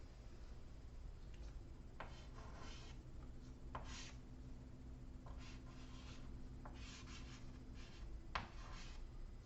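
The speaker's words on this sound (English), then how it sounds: "I'm going to write down two things here" Marker or chalk writing on a board in a quiet room, several short scratchy strokes in bursts, faint and close, with pauses between them.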